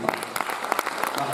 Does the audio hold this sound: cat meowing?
no